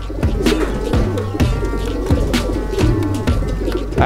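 Close, loud cooing from a racing pigeon repeats in steady low pulses, several calls rolling one after another with soft chirps in between.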